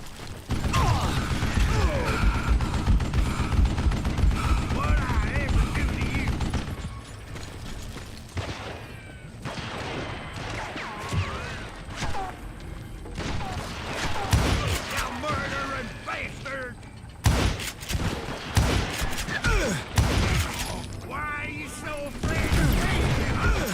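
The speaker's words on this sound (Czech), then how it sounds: "on střílí jak jeblej" Rapid bursts of gunfire from the Call of Juarez: Gunslinger video game, dense and loud with mechanical clicks, running for long stretches under a busy game soundtrack, with speech mixed in.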